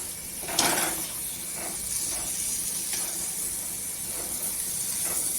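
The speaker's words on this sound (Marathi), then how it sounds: "ही टाकून घ्यायची आणि मसाल्यांमध्ये परतून घ्यायची" Brinjal pieces sautéing in spice masala in a pan give a steady, moderately quiet sizzle with a few sharper crackles, and no voices.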